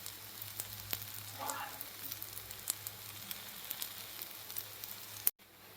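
A cucumber and semolina tosha bhakri, a Konkan Malvan flatbread, roasts in a pan on both sides with a soft, steady, fairly faint sizzle dotted with small crackles and clicks, ending in a sharp knock.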